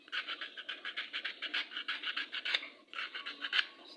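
Sandpaper rubs back and forth on an aquarium pump part before gluing, a steady run of short raspy strokes close by, briefly pausing before resuming.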